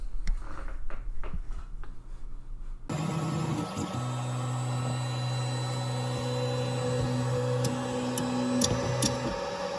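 A 3D printer prints a Terminator endoskeleton arm, its stepper motors humming in steady sustained tones with faint ticking clicks, starting abruptly after a few seconds of quieter room noise and running continuously up close.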